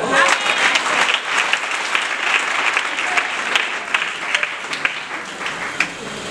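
Church congregation applauding during a Sunday evangelical service, sustained dense clapping from a crowd that is loud and continuous throughout, with a few louder claps standing out near the end.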